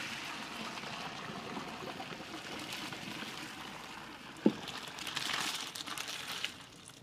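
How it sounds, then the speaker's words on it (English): Pasta cooking water pours from a pot into a sink in a steady rushing stream with a sharp clank midway, then swells into a louder, splashier gush. "Now, I've saved the water. I'll drain the rest."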